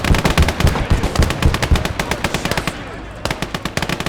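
Machine gun fire in the Gates of Hell World War II strategy game, Finland versus USSR, loud rapid bursts of rattling shots repeating almost continuously, with a brief lull before firing resumes.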